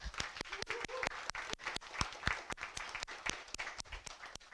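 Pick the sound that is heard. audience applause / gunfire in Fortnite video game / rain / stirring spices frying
audience applause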